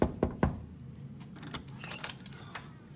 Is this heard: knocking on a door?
yes